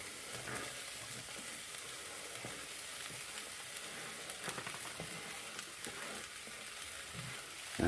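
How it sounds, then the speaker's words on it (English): Sweetcorn kernels sizzling in a frying pan for chowder, a soft, steady crackle and hiss with faint scattered pops and occasional stirring, quiet and without talk. "In I go with my corn."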